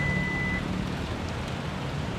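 An SUV's power back door gives a single sustained electronic warning beep as it begins to open, then cuts off, leaving a low rumbling background.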